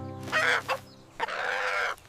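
A cartoon chicken gives two short, clear clucking calls close up, separated by a brief pause, with nothing else behind them.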